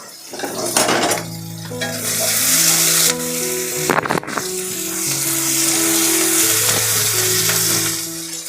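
Chopped tomato and green chillies sizzle loudly in hot oil, a steady close frying hiss with occasional scrapes and clinks of a utensil stirring the pan.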